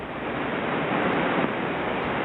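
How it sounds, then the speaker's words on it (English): Steady, dense hiss of a shortwave radio received on an old tube radio, with no clear voice, just a washing static that rises and falls slightly as a distant signal fades. "You can hear our DX fading out in the background."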